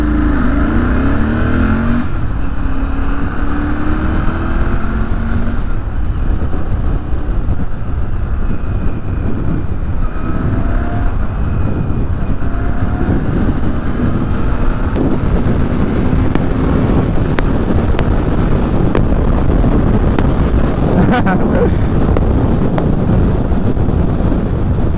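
Royal Enfield Interceptor 650 fitted with a Red Rooster exhaust, ridden in first gear and accelerating, with engine pitch rising in sweeps under heavy, constant wind roar across the microphone.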